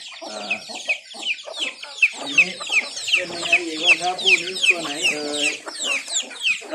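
A white fighting rooster of pure Burmese bloodline clucks and chatters repeatedly, close and loud, with someone talking over and between the calls.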